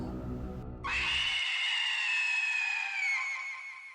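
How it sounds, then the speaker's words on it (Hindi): A long, shrill, desperate scream rises out of a low rumble and holds for several seconds before fading slightly, loud and close. "एक हताश और भयानक चीख"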